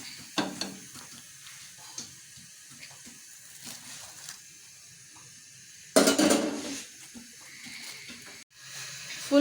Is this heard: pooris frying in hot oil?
yes